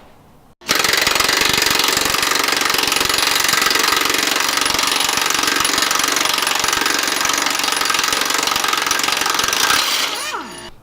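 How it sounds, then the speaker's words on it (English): Air tools zip bolts off a 2017 Silverado Z71 during a running-board install: a loud, sustained pneumatic impact-wrench hammering starts abruptly after a short pause and rattles continuously for about ten seconds before tapering off. "going to use air tools to take them off"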